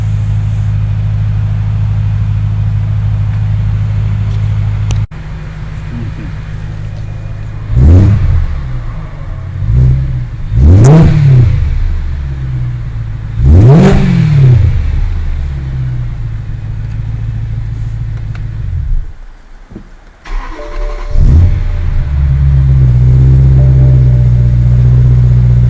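A 2008 BMW M3 engine, fitted with a replacement throttle actuator motor, revs hard three times in quick succession over a steady idle rumble, each sharp rise and fall loud and close, with no talking.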